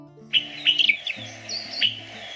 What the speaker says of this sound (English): The Rupert's parrot is quieter than other parrots.